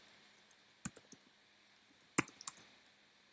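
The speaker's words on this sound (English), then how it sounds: "My typing is terrible." Scattered keystrokes on a computer keyboard during a live selling-strategy session, a few sparse clicks and two sharper bursts, close and fairly quiet with no talking.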